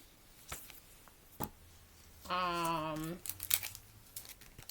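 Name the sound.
opening packaging of a notepad from a membership kit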